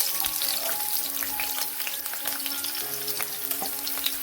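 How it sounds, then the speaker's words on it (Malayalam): Ginger and garlic fry in hot oil in a kadai for chilli chicken, a dense, steady crackling sizzle with faint scattered pops throughout. "അതിലേക്ക് നമുക്ക് ഇഞ്ചിയും വെളുത്തുള്ളിയും ചേർത്ത് കൊടുക്കാം"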